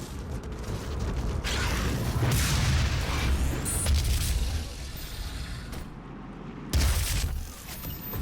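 Ghost cannon weapon firing in the 2016 DOOM video game, heavy booming blasts with mechanical creaks and ratcheting under dense combat noise, loud throughout with a sharp burst near the end.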